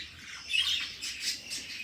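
A canary sings in a budgie aviary, bright chirps and warbling phrases carried over a soft room hum, with more birds faintly audible around it.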